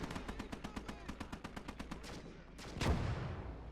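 Machine gun fire in the WWII game Gates of Hell on the Pacific front, a steady rhythmic burst of about eighteen evenly spaced shots, then a pause and one louder blast with a rumbling tail.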